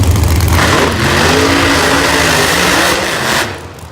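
A Chevrolet Camaro drag race car engine at a supercharged drag meet, a loud sustained roar that holds steady for several seconds before dropping away as the car pulls off, heard up close without voices.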